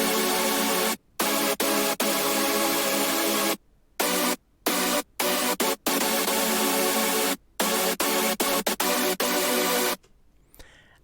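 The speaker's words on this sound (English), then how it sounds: "And they are quite heavily detuned chords" Heavily detuned synthesizer chords stacked in three layers for a hardstyle track blare in dense, buzzy sustained bursts, cut by sharp gated gaps in a choppy rhythm, loud and alone.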